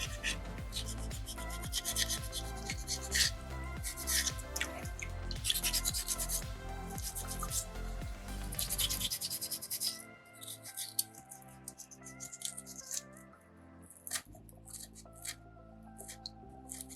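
Sandpaper rubs steadily over a small soapstone bison carving, rounding off its squared edges, a continuous close rasping scrape under busy background music that thins out partway through.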